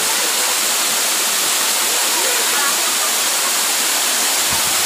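A waterfall roars steadily and close, a dense broadband rush of falling water that fills the whole stretch without a break.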